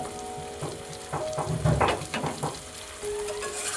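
Onion petals with green chili ginger paste being stir-fried in a pan, a close, steady sizzle broken by scraping and stirring strokes, with a louder burst of frying in the middle and no talking.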